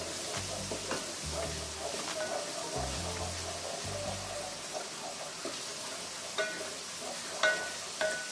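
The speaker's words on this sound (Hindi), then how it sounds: "इसको हम हल्का सा फ्राई करेंगे।" Garlic lightly frying in a pan for homemade pizza sauce, a soft steady sizzle with low stirring scrapes and a few brief clinks near the end.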